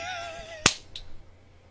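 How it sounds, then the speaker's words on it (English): A loud, crisp hand clap cracks right beside the microphone, sharp and explosive, after a fading tonal whine, with a smaller tap trailing it in an otherwise quiet room. "Was that too loud of a clap?"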